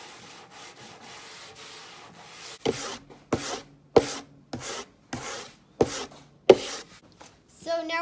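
Brisk strokes of a nylon brush scrub debris off a snowboard base, starting after a quiet stretch with about nine sharp, evenly spaced sweeps, close and fairly loud.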